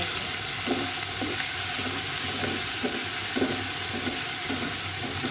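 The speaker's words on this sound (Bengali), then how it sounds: "রসুনটা ভেজে নিই" Garlic paste fries in a pan of hot oil, giving a close, steady hiss and crackle with faint periodic stirring scrapes, and no one speaks.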